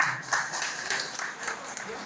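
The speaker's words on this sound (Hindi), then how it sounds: "एक बार जोरदार ताली के लिए।" An audience at a hospital bypass surgery unit inauguration in Raniganj claps in a dense, moderately loud patter of applause, mixed with indistinct voices.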